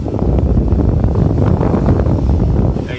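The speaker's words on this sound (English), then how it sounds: "now switching this AC controller to the maximum to see if the air blower is actually blowing" A Freightliner Cascadia truck's AC air blower running at maximum, a steady, loud broadband rush of air that stays constant throughout, with no voices over it.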